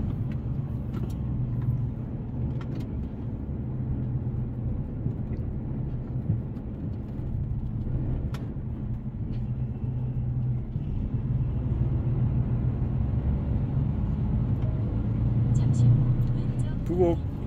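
A car rolls slowly into the Bugok tollgate, its engine and road rumble forming a steady low hum heard from inside the cabin, moderately quiet, with a few faint clicks.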